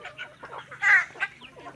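Several chickens clucking close by as they are fed, in short, uneven bursts, with one louder squawk in the middle.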